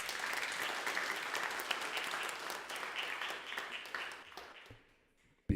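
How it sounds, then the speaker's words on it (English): A congregation at a Sunday service claps in a big, sustained round of applause for a guest musician, dense and even before tapering off to quiet at the end. "Let's have a big round of applause for him."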